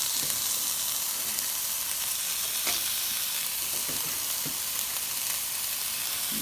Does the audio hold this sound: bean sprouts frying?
yes